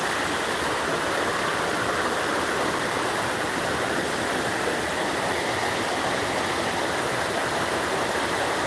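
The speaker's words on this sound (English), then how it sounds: "listen to the water run." River in the Shenandoah Valley at daybreak, water running in a steady, even rush of broadband noise, close and constant throughout with no voices.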